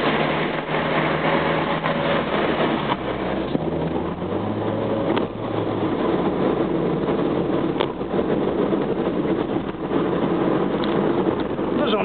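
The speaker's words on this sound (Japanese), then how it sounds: "現在高速道路で走っておりますがこの上なく安定しております" Honda Insight with a five-speed manual gearbox cruising on a highway, a steady road and engine drone that stays constant and close throughout, with someone talking over it.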